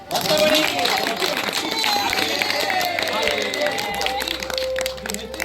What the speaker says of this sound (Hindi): वो बहुत भाई इसके लिए तालियां